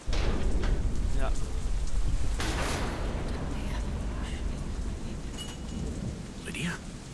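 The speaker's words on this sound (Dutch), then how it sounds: "Storm." Storm scene in the video game Deadlight: steady heavy rain with rolling thunder, a loud crack near the start and another burst around mid-clip, continuous and fairly close, with no talk over it.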